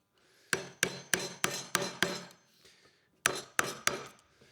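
A regular chisel is struck to cut out a notch in a metal bar, sharp hammer blows landing in a quick run of six, a pause, then three more, close and clear.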